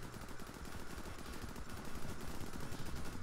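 Gunfire in the video game ProtoStrike comes as a dense, continuous rattle of rapid shots at a low level, steady for a few seconds with no voices.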